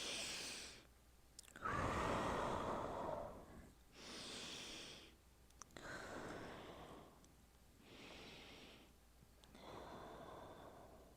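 Slow, deep breaths taken during an upper-body stretching routine, each long inhale and exhale rising and fading in a steady rhythm, close and fairly soft with no talking.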